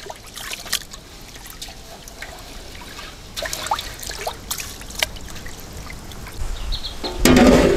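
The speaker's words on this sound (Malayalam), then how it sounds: "നമുക്ക് ഇതൊന്ന് നല്ല വൃത്തിയായിട്ട് നമുക്ക് കഴുകിയെടുക്കാം" Two kilograms of basmati rice are washed by hand, with water sloshing and trickling in irregular splashes and a louder pour at the end, no voices.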